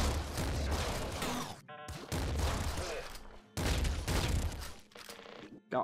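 Weapons firing in the video game Nuclear Throne, dense bursts of rapid gunfire in three long volleys separated by short gaps with brief electronic tones, loud and close.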